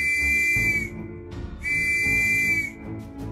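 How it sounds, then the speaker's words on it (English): Two long, shrill whistle blasts, each about a second, separated by a short pause, loud and piercing, cutting cleanly over a low background. "my comrade blew a shrill call upon a whistle."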